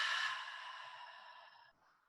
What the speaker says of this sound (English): Take a deep breath out.